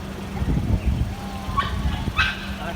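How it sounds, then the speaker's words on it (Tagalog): A dog gives a few short yips and whimpers amid outdoor background noise near a market, with a couple of sharper sounds later on. "May aso."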